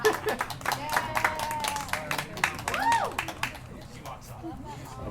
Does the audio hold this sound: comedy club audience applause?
yes